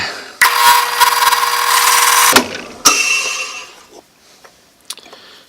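Power saw trims a wooden pen blank down to its brass tube in a jig, a loud steady cutting whine for about two seconds, then a second short burst before fading to quiet workshop handling noises.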